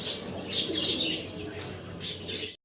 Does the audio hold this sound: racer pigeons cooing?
yes